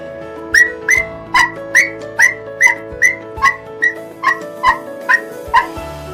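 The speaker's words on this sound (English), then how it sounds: "It started barking." A small dog yaps in a steady series of about a dozen short, high-pitched barks, evenly spaced and fairly close, with faint background hum.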